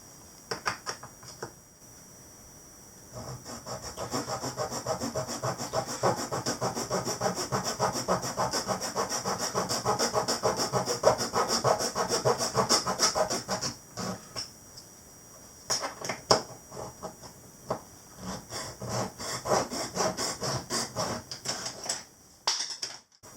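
A hand saw cuts through a wooden planking offcut for a USS Constitution model ship kit, with long runs of fast rhythmic strokes, close and fairly loud, broken by short pauses.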